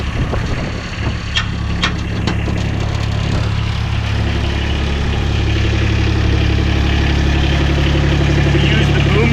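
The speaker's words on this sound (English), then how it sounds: "First what we want to do is start the machine at a low RPM." A GVF Orbit Lift engine runs at low RPM with a loud, steady idling drone and deep low rumble that holds even for the full length, close to the microphone.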